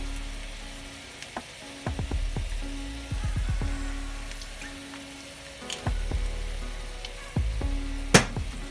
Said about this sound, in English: drizzle a little bit of my avocado oil right on top of my onions while they're cooking so they don't dry out